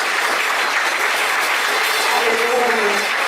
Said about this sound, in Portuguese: Aplauda o Senhor com alegria, porque Ele é fiel.